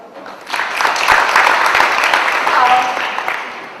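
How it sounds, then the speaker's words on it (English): Audience applause at a short Ignite talk event in Pune, a steady broadband wash of clapping that swells in and holds for a few seconds, fairly loud and without speech over it. "That's something really worth one applause."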